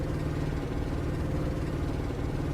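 A heavy truck engine in a driving video game, a 182 hp Magirus Deutz hauling a 44-tonne trailer uphill, drones steadily at low pitch throughout, a continuous rumbling hum without clear revving peaks.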